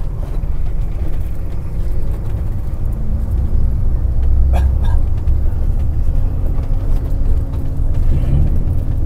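Heavy road traffic idles in a jam near a single-track railway bridge on the ML3 line, a loud, continuous low engine rumble with faint horn-like tones and clatter drifting through.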